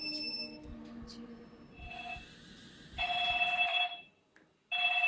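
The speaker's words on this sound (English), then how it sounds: "Let me go ahead and answer the phone." An electronic telephone in a Wii horror video game rings in repeated bursts of bright electronic trilling, loud and close, with a short pause before the last burst over a low murmuring background.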